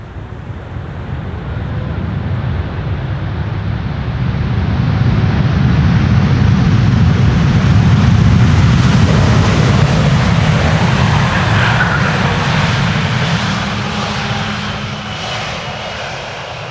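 A Boeing 777 lands on the Polderbaan runway at Amsterdam Schiphol, its engines swelling into a loud, sustained thrust-reverser roar that builds, holds, then eases off, heard from a distance with wind buffeting the microphone.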